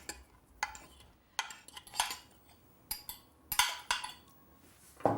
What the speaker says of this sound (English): you just use a fork for stirring rice so that the grains don't clump together